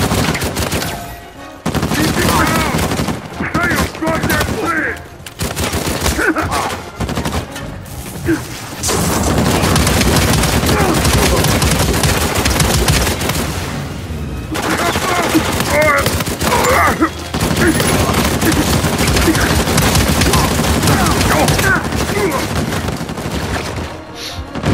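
Stoner machine gun fire in Uncharted 4 survival mode, with loud, dense bursts of automatic shots and booming explosions running almost continuously, broken by a few short lulls, with someone talking over the combat throughout.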